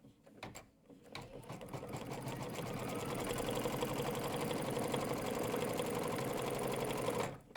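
An embroidery machine stitches fabric in place on a quilt held in a hoop, a steady fast mechanical whirr that starts up after a few clicks and runs evenly before stopping abruptly.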